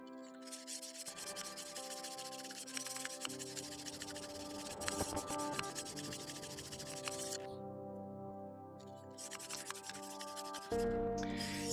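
A dull kitchen knife is drawn steadily across a whetstone, giving a continuous close gritty rubbing that keeps up for most of the stretch with brief lighter pauses.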